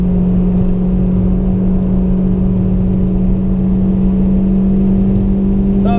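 A car accelerates hard on the Nürburgring, with a steady, loud engine drone holding a constant pitch throughout and no speech heard.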